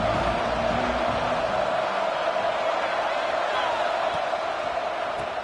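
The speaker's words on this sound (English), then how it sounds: "An inspired crowd here tonight." A big stadium crowd at a Clemson versus Louisville college football game roars steadily in a continuous, even wash of cheering that never drops off.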